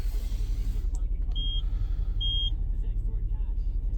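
Rear parking sensor on a new Seat Ibiza chirps two short high beeps in reverse over a low idling engine rumble, with a voice faintly in the background.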